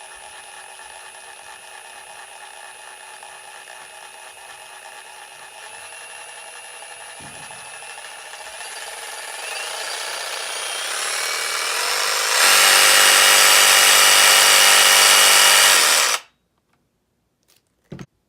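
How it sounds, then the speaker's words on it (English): Ryobi brushless reciprocating saw runs free with a steady whine at low speed, climbs gradually, then roars loud and close at high speed before cutting off abruptly to silence. "let's take a look at what this saw sounds like at low and high speeds"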